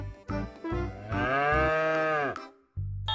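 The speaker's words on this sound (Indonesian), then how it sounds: "Wow, ada sapi tanduk warna-warni teman-teman." A colourful horned toy cow gives a long, loud, drawn-out moo with strong harmonics, followed by the start of another moo, heard alone with no talking.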